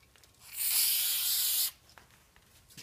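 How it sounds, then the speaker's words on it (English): Brake cleaner aerosol sprayed onto a piston and connecting rod during engine assembly: one steady, loud hissing burst of about a second, with quiet workshop handling noises around it. "now just spray the whole thing down with brake cleaner"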